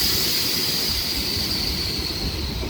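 Simhadri Express running along track between Visakhapatnam and Narsapuram, a steady close rumble of wheels with a constant high whine above, continuous and loud without voices.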